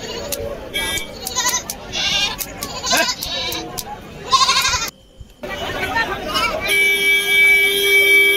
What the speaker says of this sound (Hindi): बहुत प्यारा प्यारा बकरा